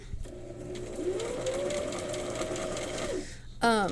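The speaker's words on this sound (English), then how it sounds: "I'm also kind of using the hand wheel as well to make sure I get my needle down" A sewing machine runs in one steady, close stitching burst, slowing near the end, as a fabric patch with interfacing is sewn and the hand wheel is turned to lower the needle; brief clatter follows.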